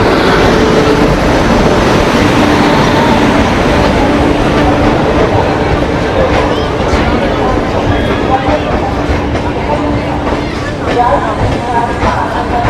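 An Indian Railways train on the Delhi to Mumbai route pulls into platform 5, a steady low rumble and hum of the arriving carriages filling the station, with voices talking throughout.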